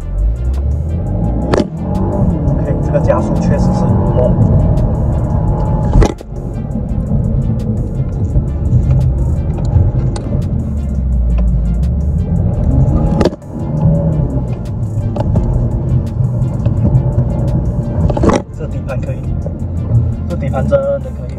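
A GAC Trumpchi Empow R on Michelin PS5 tires accelerates hard, a loud sustained low engine and road roar filling the cabin with a few sharp transient knocks, while people talk over it.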